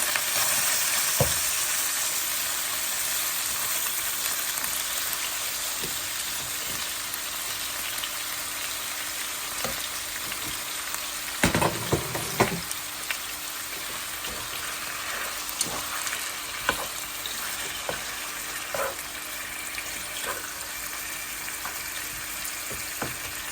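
Continuous sizzling of chicken frying in a hot pan outdoors at a park, with occasional stirring clatter and scrapes; no talking.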